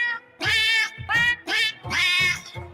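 A trombone cat sound effect: four or five short, loud, wavering meow-like blasts that slide in pitch like a trombone, each separated by brief gaps.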